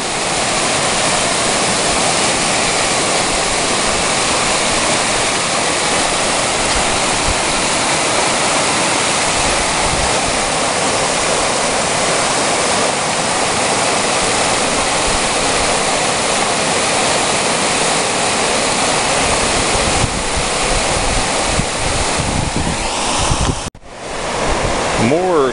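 The Oyster River on Vancouver Island rushes over bedrock in full flood, a loud, unbroken roar of churning water close by, with a brief dip near the end.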